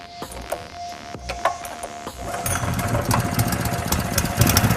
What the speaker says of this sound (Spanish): Un motor gasolina en condiciones normales no debe demorarse más de 2 cuerdazos para prender.